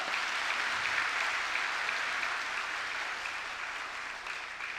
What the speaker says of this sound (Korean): 다시 한번 큰 박수로 격려하겠습니다.